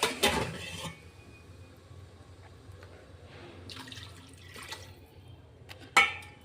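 Water poured into a pot of rice for egg biryani, a short splashing pour at the start and another brief splash near the end, faint and quiet in between.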